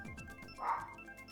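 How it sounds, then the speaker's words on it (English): A dog gives one short, sharp bark near the middle of the moment. It sounds fairly close and sits over a faint, steady indoor background. "barking again."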